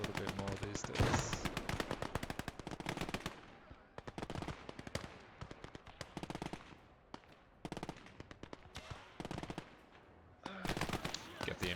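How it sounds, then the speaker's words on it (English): An MG42 machine gun fires in the Gates of Hell video game, loud rapid bursts of gunfire repeating in long strings separated by short pauses, with other battle shots mixed in. "Get the MG42 in the right spot and get firing away."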